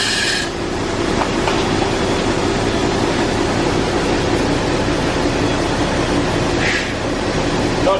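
Wet corn pours steadily from a combine harvester, a continuous dense rushing and rattling hiss under a constant machinery drone, with a couple of brief higher scrapes.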